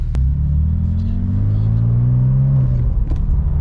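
Loud, close engine rumble from inside a Porsche 911 Turbo, rising and falling in pitch as it accelerates and eases off.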